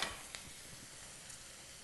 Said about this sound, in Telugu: ఆనియన్స్ వేగాయండి